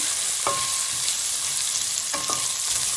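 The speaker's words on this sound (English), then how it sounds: "Give them a quick stir" Onions sizzle steadily in a hot pan for a creamy vegan shahi paneer, with two distinct scraping stirs of a spoon cutting through the continuous frying hiss.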